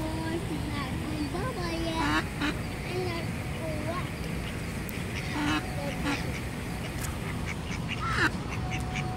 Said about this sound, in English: Hi, Black Duck